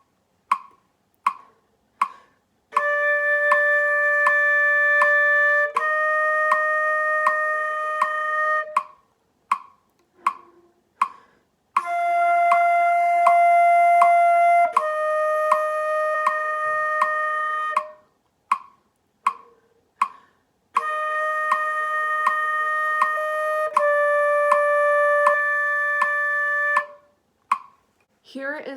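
A wind instrument plays the beginner exercise song Good Neighbors from a lesson book, in three sustained phrases of steady held notes, with a metronome-like click ticking between and beneath the phrases.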